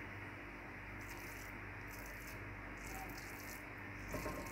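Dry Jamaican beef patty filling stirred in a pot, giving a steady, close rustling and scraping like footsteps through dry bush, continuous with soft rhythmic swishes and no talking.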